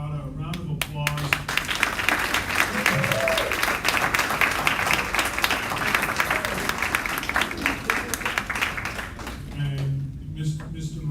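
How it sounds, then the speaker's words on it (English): A summer school graduation crowd applauds the outgoing principal with brisk, dense clapping that holds steady for several seconds, and voices are heard at the start and end. "if we could just give Mr. Murata a round of applause."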